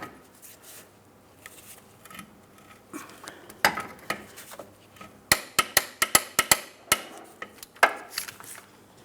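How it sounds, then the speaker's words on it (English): A torque wrench tightens the harmonic balancer bolt on a 2004-2008 Pontiac Grand Prix 3.8L V6. Sharp metallic clicks come in a quick irregular series after softer handling noises, close and clear with no talk. "I've got my torque wrench."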